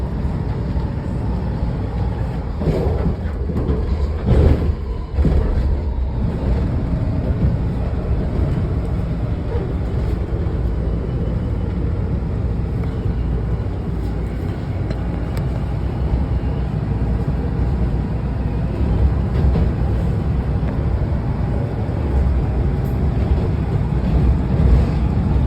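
A Washington Metro Orange Line train gives off a continuous loud, broad rumble and rushing noise with no pauses, heard as if from aboard or close by.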